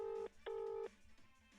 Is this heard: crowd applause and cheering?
no